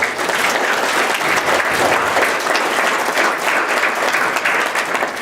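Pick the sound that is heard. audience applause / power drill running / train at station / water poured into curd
audience applause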